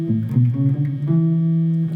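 A guitar sounds single sustained notes from a minor pentatonic scale, landing on the fifth, with a clear pitch shift around the midpoint; played alone at close range, in a lesson on the scale.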